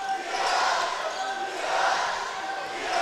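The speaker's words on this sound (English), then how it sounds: "Like the crowd's getting loud here." A high school basketball district final crowd in a packed gym, Van Buren against Seneca East, roars steadily and swells louder toward the end, a dense, continuous wall of noise.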